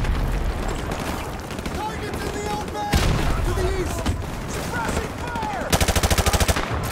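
Rapid machine gun fire rattles in Call of Duty Modern Warfare Remastered, with loud gunfire and blasts throughout and a sharp, fast burst near the end, under game voices.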